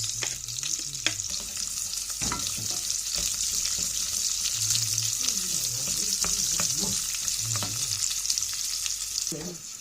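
Garlic and plenty of onions frying in a pan for beef humba, a steady close sizzle with intermittent scraping and stirring knocks from a utensil.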